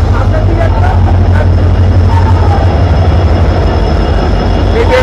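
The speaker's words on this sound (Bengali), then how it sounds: "আমাদের করমণ্ডল এক্সপ্রেস চলে যাচ্ছে" The Coromandel Express rumbles past at close range on its run from Shalimar toward Bhubaneswar, a loud, steady roar of wheels and carriages with faint squeals.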